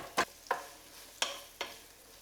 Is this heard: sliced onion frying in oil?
yes